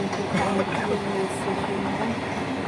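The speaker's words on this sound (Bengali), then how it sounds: "স্টেশন না ট্রেন যাচ্ছে" Continuous low rumble and rattling of a passing train, steady throughout, with a voice speaking faintly over it.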